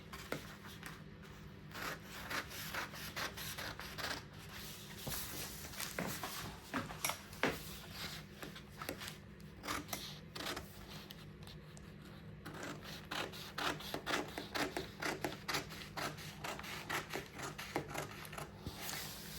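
Scissors cutting fabric for a Queen Anne neckline bustier. Quiet, steady rasping snips repeat close by with no talking.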